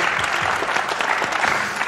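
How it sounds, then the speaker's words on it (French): A TV studio audience applauds in a dense, steady burst of many hands clapping, loud and close throughout, with no talking over it. "mesdames, messieurs, on l'applaudit"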